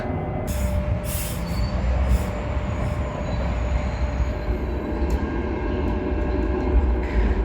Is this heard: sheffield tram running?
yes